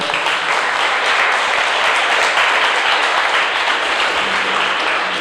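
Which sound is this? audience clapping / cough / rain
audience clapping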